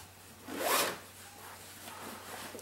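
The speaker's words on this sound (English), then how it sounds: "On the zippers, you see they actually have overlap right here." A zipper on a Condor 3-day assault pack is pulled in one quick rasping run, loudest in the middle, followed by softer rubbing of the fabric against a steady low hum.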